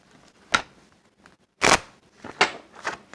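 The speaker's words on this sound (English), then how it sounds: "One more shuffle, guys." Tarot cards are shuffled in a few short, crisp bursts of riffling and slapping, separated by quiet gaps, close and fairly soft.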